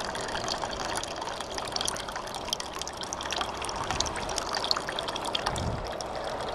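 Water rushes steadily through a precise flowmeter into a measuring cup, a continuous close gushing pour with a bright splashy hiss that holds level throughout, no voices.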